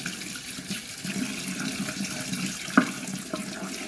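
Cold water runs steadily from a sink tap while fidget toys are rinsed, a continuous close splashing wash with one brief clunk near the end and no talking.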